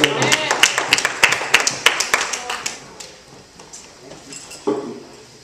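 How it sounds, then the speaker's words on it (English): A church congregation claps for a tenor during a service, a burst of loud, rapid hand claps that thins into scattered taps and fades, then a short final swell. "let's give him a hand"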